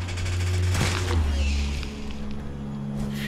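Sustained gunfire in Fallout 4 sounds as a dense, continuous rumble with low droning tones and sharp crackling bursts, loud and close throughout.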